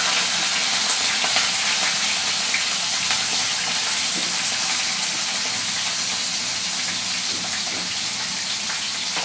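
Chopped onion and green chilli fry in a pan for a chicken gizzard and liver dish, giving a steady, loud, close sizzle that runs unbroken from start to finish with no talking.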